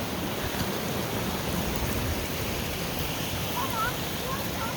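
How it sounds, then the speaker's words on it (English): Fast water rushing through a high water ditch along an old creek bed in the high desert, a steady, loud, broadband roar with no pauses, heard up close. "The water is flowing like crazy through even the high water ditch."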